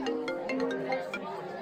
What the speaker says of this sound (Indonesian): Zeva, ayah angkat telepon sebentar ya.